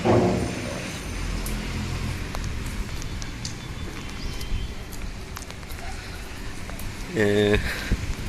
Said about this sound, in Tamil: ஃப்ளட்டு முடிஞ்சதுக்கப்புறமும் வர்ற மழை.